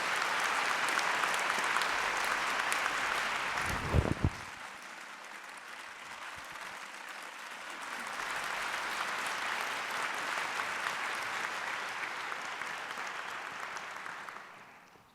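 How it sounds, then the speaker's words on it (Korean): Graduation ceremony audience welcomes a speaker with sustained applause: a broad wash of many hands clapping, interrupted by a dull thump and a brief dip, then swelling again before fading out. "큰 박수로 환영해 주시기 바랍니다"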